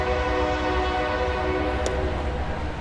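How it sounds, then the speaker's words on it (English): A train horn sounds near a baseball stadium during a Mariners game, a loud sustained chord blaring steadily over rumbling rail noise, close and continuous. "Does that train whistle bother you in the batter's box?"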